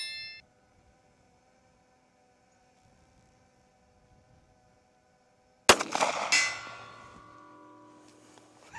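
A single sharp pistol report from a Smith & Wesson BodyGuard 2.0 fired at a steel target 100 yards away, followed by a ringing clang and decaying echo after a quiet lead-in; no talking.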